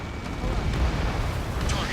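A destroyed target explodes in the Ace Combat 7 combat flight game, a deep rumbling blast that rolls on for a couple of seconds, loud and close with a low boom.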